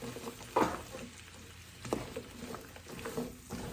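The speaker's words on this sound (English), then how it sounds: "So now I'm just going to stir this for a minute." Ratatouille vegetables frying in a pan and being stirred, with a soft steady sizzle broken by a few scraping strokes of the spoon at irregular intervals.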